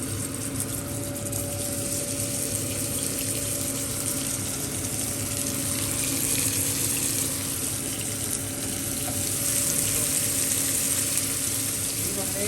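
Turkey burgers fry in hot grease in a pan, giving a steady, fairly loud sizzle with a bubbling, watery hiss that holds level throughout and has no talking over it.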